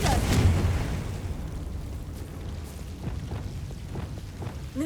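A Confringo blast spell in the Hogwarts Legacy video game, a loud booming burst at the start that rolls off into rumbling debris and scattered crackles.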